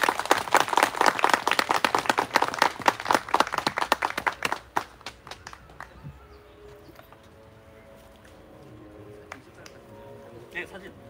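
Crowd clapping at a memorial ceremony in honor of a student recipient, loud dense applause for about five seconds that thins out and fades to quiet room noise with faint talk.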